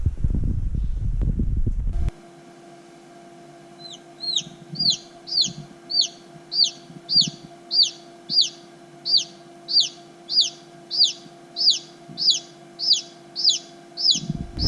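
Newly hatched chicks peeping inside a school incubator, a long regular series of high, bright chirps at steady intervals over a constant mechanical hum, alone and fairly clear.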